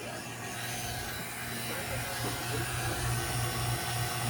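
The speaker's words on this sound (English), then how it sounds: "run the vacuum pump, sucking out the air and moisturizer out the AC" Vacuum pump evacuating the AC lines of a 2006 Chevy Suburban during a compressor replacement, a steady low droning hum running continuously and fairly loud throughout.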